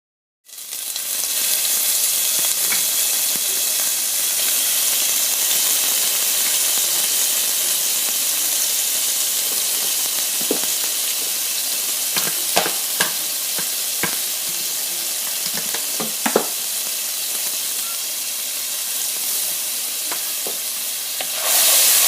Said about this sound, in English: your stock is starting to bubble up a little bit